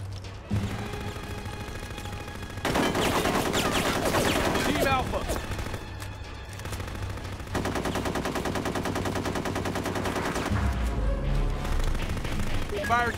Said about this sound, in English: Getting shot at over here.